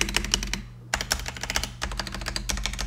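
Continuous rapid typing on a Nimbleback Kilmat mechanical keyboard fitted with linear switches, dense close keystrokes with a brief pause near the start and low thocky bottom-out resonance throughout, no voices.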